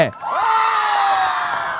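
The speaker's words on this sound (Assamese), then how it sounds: "বহুত সুন্দৰ সুন্দৰ এটা হাত চাপৰি জোৰে" A crowd cheering and whooping with loud sustained voices after a Mising dance performance at a girls' college event in Assam.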